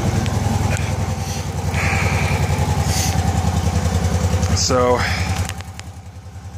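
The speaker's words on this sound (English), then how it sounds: "You can see the engine's cold. It wasn't warm at all when I started it." Customized 1989 Honda Pacific Coast PC800 with fuel injection idling from a cold start, a loud, close, steady pulsing engine note that drops in level near the end, with someone speaking briefly over it.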